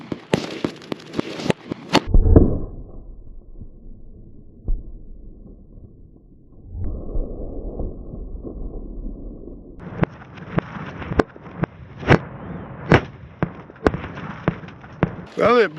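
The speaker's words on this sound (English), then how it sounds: "So with the Winchester Defender, let's shoot 4 baby watermelons and see what happens." Glock 41 Gen 4 .45 ACP shots with Winchester Defender rounds fired into a row of small watermelons outdoors: a loud sharp report followed by a splattering burst, then a string of sharp clicks and thumps.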